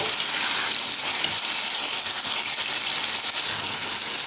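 Garlic and ginger fry in oil for vegetable pulao, making a loud, steady, close hissing sizzle that runs unbroken and has no talk over it.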